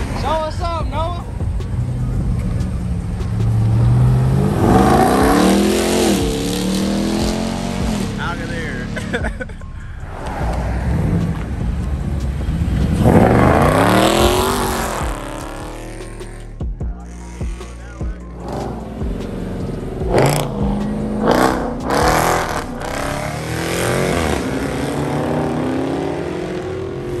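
Muscle cars leave a cars and coffee meet in Dayton with loud engine revs and rising acceleration, several vehicles passing one after another up close, while people talk over the roar.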